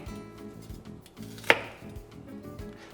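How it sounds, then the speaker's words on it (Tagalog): A knife slices a medium onion thinly on a cutting board, giving soft rhythmic cuts with one sharp louder chop near the middle, close and quiet with no talk. "Since medium yung onion natin, okay lang naman na hiwain pa yan ng mas manipis na katulad nito."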